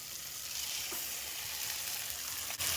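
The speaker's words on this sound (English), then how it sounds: "now we're going to add in 2 cups of long grain white rice that I rinsed. And give this a stir." Rinsed long grain white rice stirred and toasting in a pot for Southern Hoppin' John, with a steady close sizzle, a few soft stirring scrapes and one sharp clink near the end.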